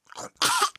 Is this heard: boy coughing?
yes